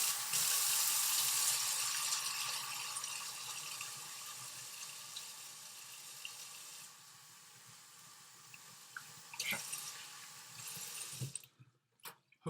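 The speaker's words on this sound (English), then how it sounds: "I'm going to wash my hands again just to be on the safe side." Hands washed under a running kitchen tap while making kombucha, a steady hiss of flowing water that gradually softens, with a few splashes and clunks before the tap shuts off near the end.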